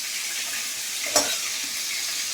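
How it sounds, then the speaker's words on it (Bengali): Shrimp fry in a hot pan with a steady, close sizzling hiss, broken once by a brief sharp clatter midway. "এই যে চিংড়ি মাছগুলো লাল লাল করে ভেজে নিলাম"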